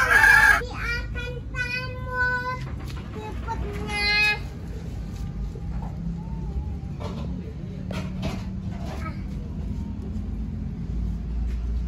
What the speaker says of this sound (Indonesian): ini ada ayam Rembo